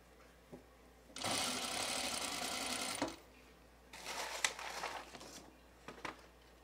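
A sewing machine understitches the facing of a Girl Friday blouse in one steady run of about two seconds, followed by handling noises and a shorter, uneven burst of activity.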